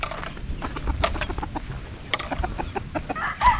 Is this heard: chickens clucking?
yes